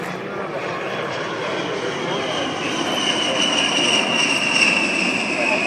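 An A-10 Warthog jet roars past at an airshow, a loud continuous engine drone with a rising high whine that swells slightly as the aircraft passes overhead.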